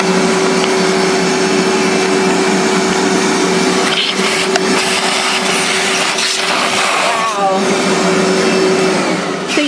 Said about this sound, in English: I'm just going to stick a vacuum right inside of there